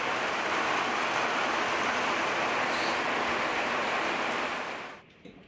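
Rain falls steadily and close during a bikepacking trip through Sweden, a dense, even hiss that holds loud for about five seconds, then cuts off abruptly into near quiet.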